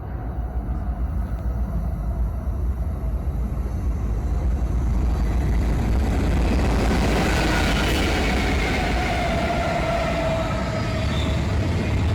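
A long freight train rolls past on the Coachella Valley railway, a steady, loud, broadband rumble and rattle of wagons that holds for the whole stretch without any voices.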